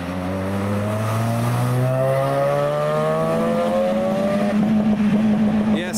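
A blue Mazda RX-7 drives past at a car show, its rotary engine rising in pitch with a strong smooth whine as it passes, then fading into a rougher idle burble.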